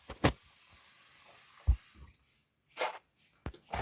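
Small splashes of water added by hand into a kratky hydroponic grow container with a greenhouse lid, a few brief separate drips and pours with quiet gaps between them.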